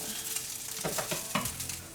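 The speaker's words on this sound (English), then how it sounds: "And now I'm just like frying this up." Chicken sizzling steadily in a hot pan while a utensil scrapes and stirs it a few times, close up.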